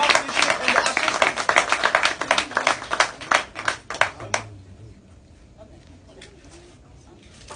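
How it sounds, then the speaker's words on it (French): A small group claps at a Tahitian earth-oven cooking gathering on Moorea, a loud burst of close handclaps that fades out about halfway, followed by quieter scattered sounds and a few voices. "On peut applaudir s'il vous plaît."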